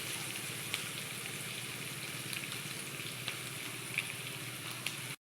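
Chopped onion fries in a pan for chicken keema, giving a soft, even sizzle with a few light pops, close and continuous until it cuts off abruptly at the end.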